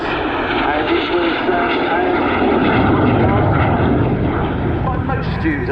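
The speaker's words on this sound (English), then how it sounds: "started off with the T1 Jet Provost" A T1 Jet Provost jet trainer flying at the RAF Cosford air show gives a steady, loud engine roar that holds at a constant level for the whole stretch.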